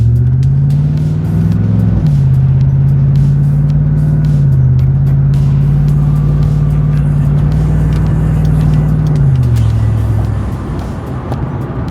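A modified C5 Corvette's engine drones steadily at low pitch while cruising normally, loud and close throughout, with small shifts in tone and a drop near the end as the revs ease off.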